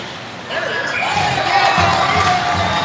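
A large crowd cheers and roars loudly after a goal at a youth ice hockey game, swelling after a moment and sustaining throughout, echoing as in an arena.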